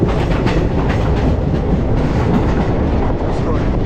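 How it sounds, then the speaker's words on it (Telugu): Train 17046 Anakapalle–Charlapalli rumbles past close alongside another moving train, a loud, dense and steady roar of wheels and carriages that fills the whole stretch without a break. "మన పక్కకే ఫ్లైట్ ట్రైన్ అయితే పోతుంది,"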